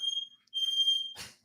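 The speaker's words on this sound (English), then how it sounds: "I'm setting smoke alarms off." High-pitched smoke alarm tones sound in repeated beeps, with a brief gap between them. A short burst of noise follows.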